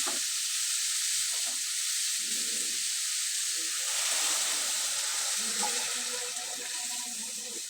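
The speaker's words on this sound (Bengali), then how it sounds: "আলুটা আমি ছোট ছোট করে কেটে নিলাম। এবার খুব ভালোভাবে নেড়ে চেড়ে দিতে হবে।" Small diced potatoes stirred in a frying pan, with a steady, bright sizzle throughout and soft muffled scrapes and thumps from the stirring, close and fairly quiet, with no voices.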